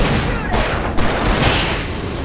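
Rapid bursts of gunfire in the video game Alan Wake Remastered, dense and loud volleys running continuously with sharp cracks near the half-second and one-second marks over a constant din.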